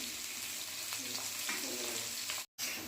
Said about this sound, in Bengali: এগুলো দিয়ে ভালো করে নাড়াচাড়া করে দিচ্ছি আর কিছুক্ষণ ধরে আলুগুলোকে ভেজে নিচ্ছি।